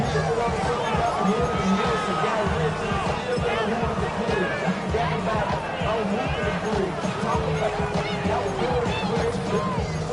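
Football stadium crowd during a game, a dense, steady roar of many voices swelling with oohs and aahs, loud and continuous throughout with no clear pauses.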